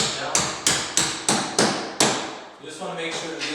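A hammer taps bolts down on a mobile wall with five sharp, evenly spaced strikes close to the mic, followed by a softer clatter.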